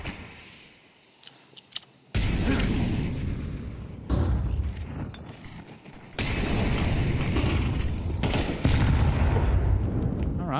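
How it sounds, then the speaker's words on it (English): Grenade explosions in Counter-Strike 2 during a tournament match: a faint stretch gives way to several loud, broad blasts, each followed by a sustained roar. "well placed nade"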